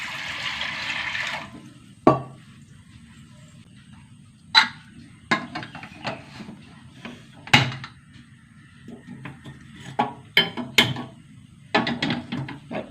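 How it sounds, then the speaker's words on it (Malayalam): Water is poured into a pot for cooking toor dal, a brief splashing pour at the start followed by scattered clinks, knocks and handling sounds in a quiet kitchen. "വെള്ളം ഒഴിച്ച് കൊടുക്കട്ടെ."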